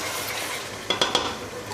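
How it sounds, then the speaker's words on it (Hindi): Goat trotters (mutton paya) are stirred and fried in masala in a pot, giving a steady sizzle with three quick metallic spoon scrapes and clinks against the pan close by. "अब हम पाए शामिल करेंगे और इसे हम थोड़ी देर भूनेंगे 2 से 3 मिनट"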